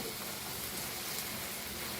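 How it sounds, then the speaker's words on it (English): Tomatoes sautéing in a dry pan without oil, a steady, soft sizzling hiss that runs evenly throughout at low volume, with no talk. "Now in this only, no adding oil, we'll just saute this tomatoes."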